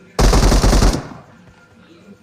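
ASM gun in the BGMI video game firing a loud, rapid automatic burst for under a second, then stopping, with the shots ringing out into a quiet tail.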